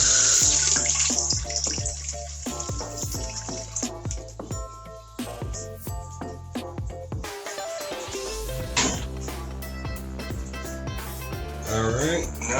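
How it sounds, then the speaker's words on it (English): Toilet tank refilling after the water supply is turned back on, a continuous gushing and trickling flow into the tank with a brief dip partway through, close and loud, while someone talks over it. "And we're gonna turn the water back on."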